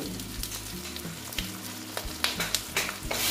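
Ground coriander, cumin, Kashmiri red chilli powder and salt fry in hot oil for banana flower ghonto, a close steady sizzle broken by several scraping stirs and clinks of a spoon, with no talking.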